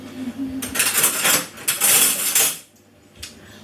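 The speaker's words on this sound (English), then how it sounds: "I think tongs are the way forwards." Metal tongs clink and clatter against skewers and tubs while pork belly skewers are moved, a busy run of close metallic scrapes and taps that stops abruptly, followed by a single faint knock.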